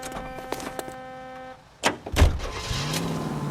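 Car engine starting and pulling away in the video game L.A. Noire, with a door thunk, then a loud engine surge rising and holding steady after a brief lull, following a stretch of tonal music.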